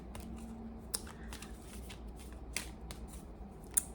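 Oracle cards shuffled by hand: soft papery riffles and slides with a few sharp snaps of cards hitting together, close and quiet, with no talking.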